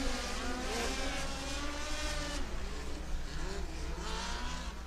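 Midget race cars of the POWRi National Midget League racing at Valley Speedway, several engines wailing and rising and falling in pitch as they pass close and loud, with steady crowd and track noise underneath.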